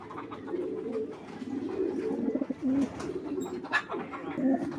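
Several male pigeons coo in low, rolling bursts close by as they fight, overlapping one another with a few sharper flutters and scuffles.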